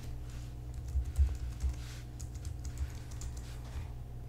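Password being entered on a computer keyboard, a run of soft, close key taps at an uneven pace over a low steady hum.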